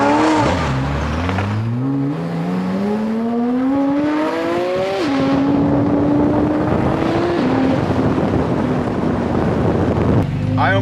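A straight-piped 2023 Porsche GT4RS accelerates hard on the street in Miami, its loud engine note climbing steadily through the gears with sharp shifts, heavy wind rush and a close, roaring exhaust throughout.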